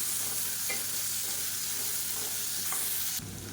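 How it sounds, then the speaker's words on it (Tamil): Boiled potatoes fry in a pan with a dense, steady sizzle, close and even, which drops slightly near the end. "உருளைக்கிழங்கு சேர்த்துட்டு ஒரு ரெண்டு நிமிஷம் நல்லா சுருண்டு வர அளவுக்கு வறுத்துக்கலாம்"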